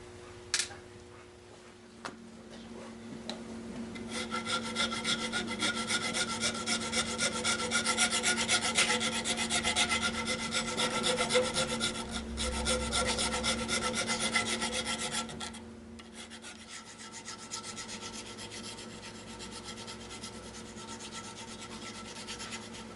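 Filing smooths the spine of an Air Force pilot survival knife blade with a loud, continuous close-up rasp that runs for about ten seconds before it stops, with a few lighter strokes around it.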